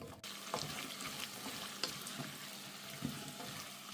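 Onion, potato and carrot fry over medium heat in a pan, giving a steady broadband sizzle with a few soft clinks of stirring scattered through the four seconds.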